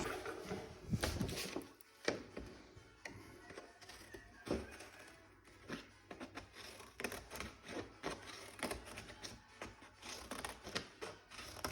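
Scissors snip through playing cards being cut to make a hat in an irregular series of crisp, close snips and rustles, some in quick bursts and others spaced apart, with no talking.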